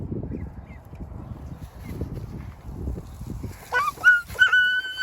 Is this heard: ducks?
yes